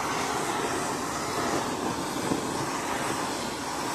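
A torch flame burning along wooden floorboards in a loft renovation, a steady loud roaring whoosh that holds unchanged throughout.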